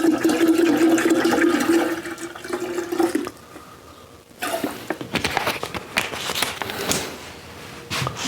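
Water poured from a half-filled bottle into bourbon to bring down its proof, a steady splashing pour that stops, then softer trickling and handling sounds, close by with no talk.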